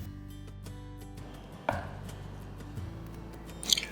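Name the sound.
knife chopping nian gao into slices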